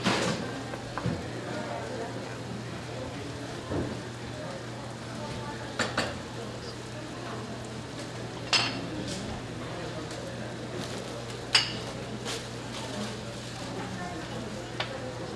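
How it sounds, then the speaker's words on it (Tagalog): Mole crickets sizzling in hot oil in a pan, with scattered metallic clinks and scrapes of stirring against the pan over a steady low frying hiss, a voice speaking quietly in the background. "Dadagdagan ko ng mantika para mapadutong ko siya."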